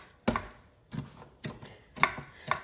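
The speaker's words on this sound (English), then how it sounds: "So keep kneading it." Gobi paratha dough being kneaded by hand: five soft, regular thumps and presses about half a second apart, close and fairly quiet, with no talking.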